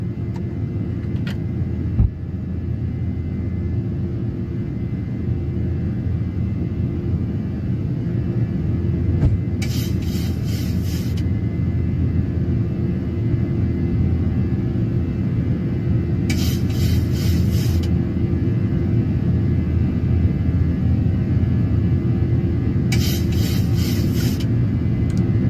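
Boeing 737-800 jet climbing after takeoff in a PMDG flight simulator, a steady loud low engine roar and rumble holding evenly throughout, with brief hissy bursts recurring every few seconds over it.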